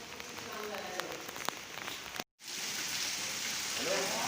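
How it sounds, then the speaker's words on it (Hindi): Heavy rain falls in a village, a dense, continuous hiss of drops on surfaces that cuts out briefly partway through, then resumes just as strongly. "बारिश अभी और तेज़ हो चुकी है भाई"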